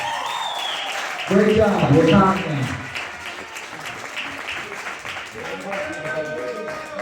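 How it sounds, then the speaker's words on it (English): Audience applause at a comedy show swells suddenly, a loud burst of clapping lasting about a second before fading, with people talking before and after over the room noise. "just give her a round of applause"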